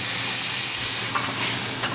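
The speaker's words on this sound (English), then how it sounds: "I'm going to open the lid" Taro root fries in a pan with the lid just off, giving a steady close sizzle with scraping stir strokes over the last second.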